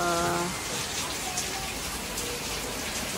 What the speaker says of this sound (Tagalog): Ayan na ang ulan.